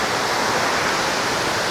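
Water plunges into the pool of Ōtaki waterfall in Yokoya Gorge, Nagano, a loud, constant broadband roar with no breaks, heard close and alone.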